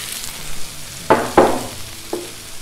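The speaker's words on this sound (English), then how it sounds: "Hear that sizzle?" Vegetables frying in oil with a soft ongoing sizzle, broken by two sharp scraping stirs in quick succession and a lighter one after, close up.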